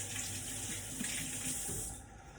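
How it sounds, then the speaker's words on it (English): Steady hiss of running tap water as hands are rinsed at a kitchen sink during egg separation for a coconut cream pie, continuous and close, tapering off near the end. "I'm going to rinse my hands off"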